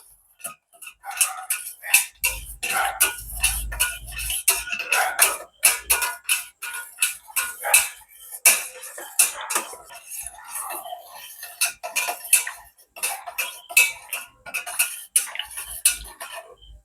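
A spoon stirs a sweetened tinned-milk drink for jelly sherbet, making rapid, irregular metallic clinks and taps against the container, close and fairly loud, with quiet pauses between flurries.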